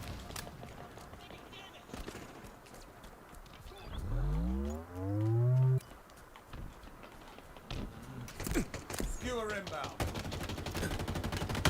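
Rapid bursts of gunfire from a Halo Infinite weapon, scattered sharp shots and volleys amid game sounds, including a loud sweeping whine midway, with dense firing near the end.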